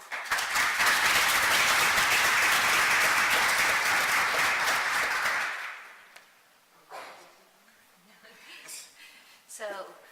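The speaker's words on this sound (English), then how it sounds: "Now let's clap." An audience applauds after presentations on practices, a dense burst of clapping that holds for about five seconds and then stops abruptly, followed by quieter room sounds and a few faint voices.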